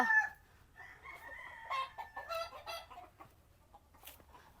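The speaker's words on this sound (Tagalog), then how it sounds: "may mga naitali na rin po ako dito mga, mga tandang" Tethered roosters on a Filipino breeding farm crow and cluck in short bursts at moderate distance, several birds overlapping across the moment with quiet gaps between calls.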